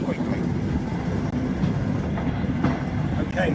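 A heritage railway train running along the line, with a continuous rumbling roll and rhythmic clickety-clack of wheels on rails heard from on board, under faint background voices.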